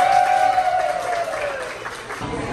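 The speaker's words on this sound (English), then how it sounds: "Can we give them a big round of applause" Steady clapping from a crowd at a Disney World restaurant fills the clip, with a tonal call or whistle sliding downward over it early on.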